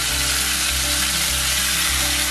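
Ground rasam masala poured into hot oil in a pan sautés with a loud, dense, continuous sizzle close up, with no one speaking.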